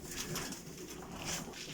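Paired racing pigeons kept shut in a loft, giving soft repeated cooing calls close by with low murmuring throughout, no voices.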